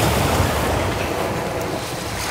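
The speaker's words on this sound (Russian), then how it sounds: "давно я очень не слышал звука озера" Waves washing steadily on the shore of a lake in Karelia, near Petrozavodsk, a continuous broadband wash with wind across the microphone, close and fairly loud, with no voices.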